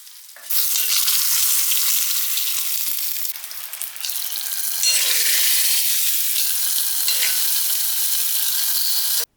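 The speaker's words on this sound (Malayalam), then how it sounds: "ഇതാ വെളിച്ചെണ്ണയിൽ നമുക്ക് കടുകും വാറ്റൽ മുളകും," Mustard seeds and dried red chillies frying in hot coconut oil, a loud continuous hissing sizzle close by that briefly dips and then surges again.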